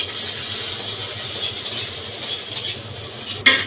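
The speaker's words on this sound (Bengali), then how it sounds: "রসুনটা একটু যখন ভাজা ভাজা হবে" Crushed garlic frying in hot oil in a Bangladeshi home kitchen, a steady close sizzling hiss throughout with a brief sharper crackle near the end.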